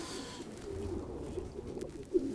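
Soft, low cooing of a racing pigeon close by, repeated murmuring calls over quiet background noise.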